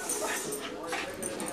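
A dog whimpers and yips in short, high, overlapping cries under steady talk, fairly close and continuous throughout.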